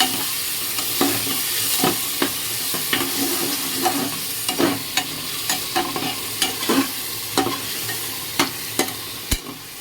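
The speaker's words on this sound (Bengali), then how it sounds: "এবার পুরোটা দিয়ে দেবো, ভালো করে কষবো" Spice paste sizzling in a hot pan with potatoes and tomatoes while a spoon scrapes and stirs it, steady frying hiss broken by regular sharp clacks of the utensil against the pan, with no talking.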